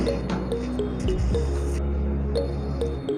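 Boiled rice is strained, its hot water draining and dripping steadily through a strainer in close, wet splashes and trickles, with a brief heavier gush near the middle.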